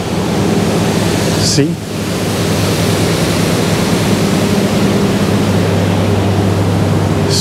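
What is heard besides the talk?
rushing water at a water station on the River Ruhr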